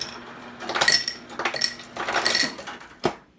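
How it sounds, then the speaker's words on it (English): A spoon clinks against a glass as a cocktail is stirred, giving a few bright metallic chinks in uneven bursts, close and clear with no talk over them. "Today we're going to stir."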